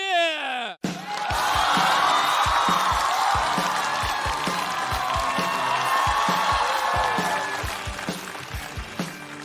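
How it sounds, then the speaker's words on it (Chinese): A studio audience at a stand-up comedy show claps and cheers to welcome a comedian onto the stage. After a short musical sting, the dense, loud crowd noise plays over a thumping rhythmic beat and gradually eases toward the end. "我们掌声有请"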